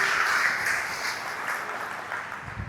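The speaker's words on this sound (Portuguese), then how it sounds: "Você pode dar uma linda salva de palmas a Jesus." Congregation applause fills a church service, a dense wash of many hands clapping together at a steady level that eases slightly toward the end.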